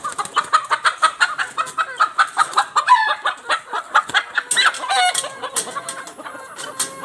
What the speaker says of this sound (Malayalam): ഇതാണ് ഞങ്ങൾ നേരത്തെ കാണിച്ച ഫാൻസി കോഴിയുടെ പെടയാണിത്.